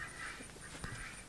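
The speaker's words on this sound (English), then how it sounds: "he's going to round these ducks up" Ducks quack repeatedly in quick, irregular calls at a moderate distance, fairly faint, with no speech over them.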